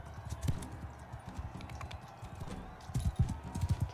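Horse hooves clip-clop in Mount & Blade II: Bannerlord during an Empire campaign battle, a close rhythmic patter of hoofbeats that grows denser toward the end, with faint battle noise and brief speech underneath.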